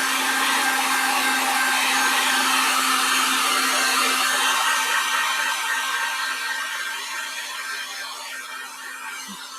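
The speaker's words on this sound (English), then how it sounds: "I'm going to grab our heat gun real quick." A heat gun drying acrylic paint, a constant close blowing whir with a thin whine that fades a little toward the end.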